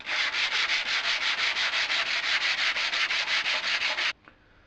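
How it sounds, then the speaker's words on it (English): Aluminum oxide sandpaper rubbing rust off the trailer of a vintage Tonka toy truck, a steady rhythmic rasp of quick back-and-forth strokes, close and loud, stopping abruptly near the end. "we're going to use aluminum oxide sandpaper again, just to smooth out all these little rust bits"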